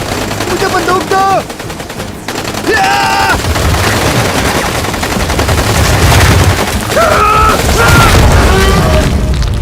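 Rapid machine-gun fire and booming shots rattle through a loud, chaotic movie scene on rocks by shark-infested water, mixed with shouting voices and whistling tones.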